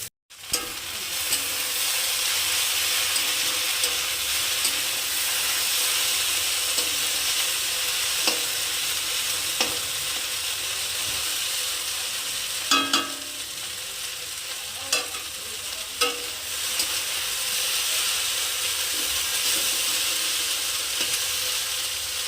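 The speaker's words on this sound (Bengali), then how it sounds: "জাস্ট এটা ভাজা হয়ে গেলে পাস্তাটা দিয়ে একটু ভেজে নামিয়ে নেবো।" Steady sizzling of pasta frying in a pan, with occasional scraping and stirring clicks, close and continuous throughout.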